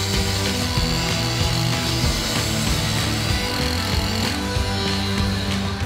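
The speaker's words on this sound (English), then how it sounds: "you can start up your saw and run it" A power saw cuts through a concrete retaining wall block, a loud, steady, continuous grinding whine that holds close and unbroken with no talk.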